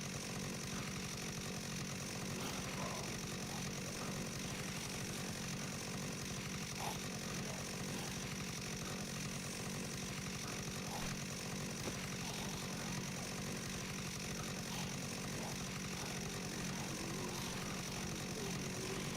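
Chainsaw in the Dead Rising remake video game runs continuously for nearly twenty seconds, a steady buzzing engine drone with constant loudness and no breaks.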